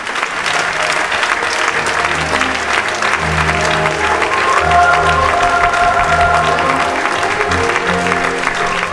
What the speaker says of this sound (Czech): Přivítejte velkým potleskem velkého českého hudebního skladatele, pana Vadima Petrova.